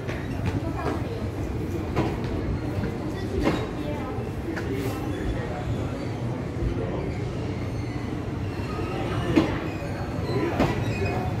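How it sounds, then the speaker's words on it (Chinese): Old-style Chu-Kuang express train with folding doors, hauled by an E200-series electric locomotive, pulling out of Ruifang station on the Yilan line; a steady rumble of rolling cars with occasional wheel clicks and squeals, people talking nearby. "鞠躬号在瑞丰站驶离。"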